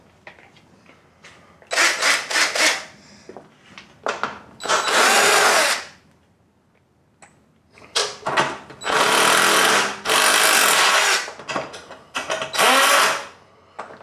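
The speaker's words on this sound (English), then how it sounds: "We're going to remove those 3 bolts and just slide that top piece out of the way." A power driver backs out three bolts from the top of a lawn mower during a carburetor replacement, heard as several loud, close, buzzing bursts separated by short pauses, with no talking.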